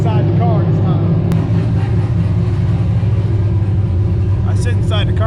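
A 363 stroker car revs hard under load with its wheels spinning, a loud continuous engine roar with rising and falling pitch, heard from inside the car while people talk over it.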